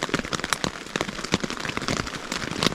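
Heavy rain pours down beside a riverbank during an unexpected downpour, a dense steady hiss of drops with sharp spattering hits on nearby surfaces, close and loud with no voices.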